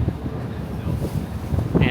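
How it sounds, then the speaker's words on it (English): Strong wind roars across the microphone on a Manhattan street before a snowstorm, a loud, steady rumbling gust lasting the whole moment. "Man, you could really, really feel the wind picking up."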